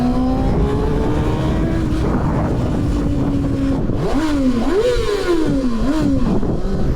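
Kawasaki ZX-6R motorcycle without an aftermarket exhaust, engine screaming at high rpm, rising in pitch, then revved again in several quick climbing bursts, loud and close over steady wind and road noise.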